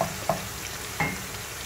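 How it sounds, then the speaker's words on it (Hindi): Onions frying in a pan until light brown for a beef biryani masala, a steady close sizzle with a few brief stirring scrapes and pops breaking through. "तो आपके प्याज लाइट ब्राउन आपने करने हैं ठीक है,"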